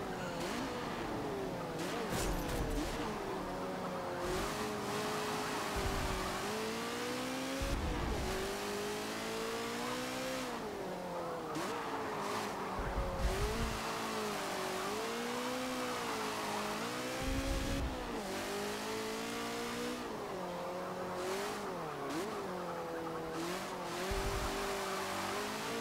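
Race cars in the Forza Motorsport 7 video game, with engines revving and harmonics rising and falling through gear changes, plus brief tire squeals. Steady and loud throughout, with no talking.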